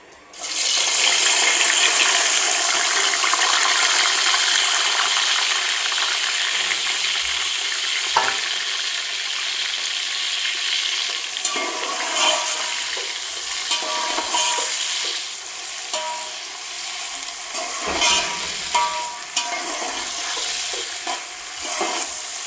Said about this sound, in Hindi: ब्राउन होने तक अब हम इनको पकाते रहेंगे इस ऑयल में